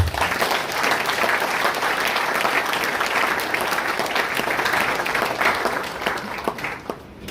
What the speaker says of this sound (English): give a round of applause for yourself